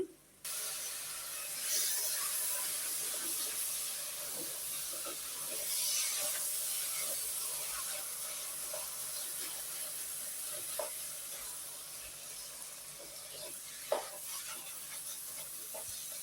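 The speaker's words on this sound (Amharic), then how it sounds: "ምስራችን በዚህ መልኩ ፍርፍር እያለልን ነው" Red lentils sizzling and crackling in a hot pan after rinsing, a steady close hiss with scattered small pops throughout, no talk.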